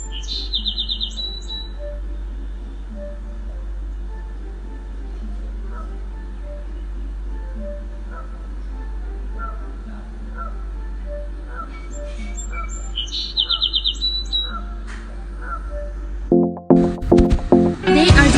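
House sparrows chirp and sing over a steady low hum, with short bursts of bright, cheeky calls near the start and again later, and a louder clatter at the end.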